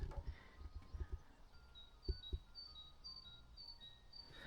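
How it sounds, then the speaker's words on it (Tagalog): Faint, high chirps from small birds repeat through a quiet outdoor scene, with soft low thumps nearby and no voices. "Yung ibon lang maririnig mo talaga guys."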